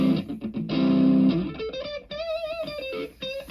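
A distorted electric guitar plays a repeating loop of chords and single notes through a plexi-style distortion from a LEKATO multi-effects pedal, crunchy and thick, with no voices.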